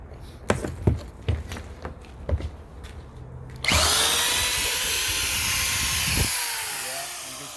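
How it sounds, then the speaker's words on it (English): An 8 amp electric drill spins up after a few knocks and handling clatter, then runs with a loud, steady high whine for several seconds before slowing down toward the end. "This is an 8 amp drill."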